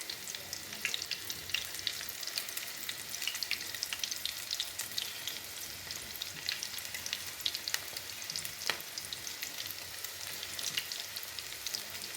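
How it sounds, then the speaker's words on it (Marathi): Manchurian balls dropped into hot oil fry with a steady, dense sizzle and crackle throughout, close and even, with no talking over it. "ह्याचे तेल तापलेलं आहे आता आपण याच्यामध्ये मंचुरियन सोडून घेऊया"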